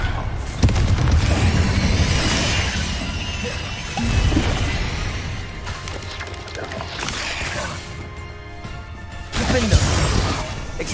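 Confringo explosive spell blasts in Hogwarts Legacy during a busy duel, several loud crashing bursts with clanking, mechanical impacts mixed among other spell effects and combat noise.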